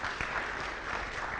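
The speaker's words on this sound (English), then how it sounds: "please clap for them even as they are seated" A graduation audience claps for seated graduates of a web development program, a brief steady burst of crowd applause heard at moderate distance.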